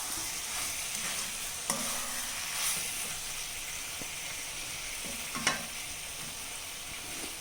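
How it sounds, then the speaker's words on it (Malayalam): Spoon stirring a salted lemon pickle mixture in a pan, a soft continuous sizzle-like hiss broken by two or three sharp clinks and scrapes, quiet and close with no voices. "ഇതെല്ലാം കൂടെ ഒന്ന് ഇളക്കി മിക്സ് ചെയ്യാം"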